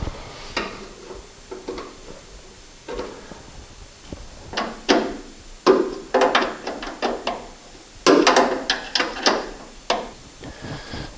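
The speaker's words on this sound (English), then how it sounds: "let's just get that tightened up" A part of a Moke handbrake is tightened with a tool, giving a series of close, sharp metallic clicks and ratcheting bursts that grow denser toward the end, with no talk.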